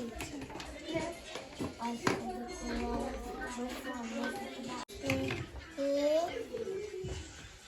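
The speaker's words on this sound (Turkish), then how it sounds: "Alkış." A few claps mixed with people talking and a voice at a home birthday, with scattered taps and shuffling nearby.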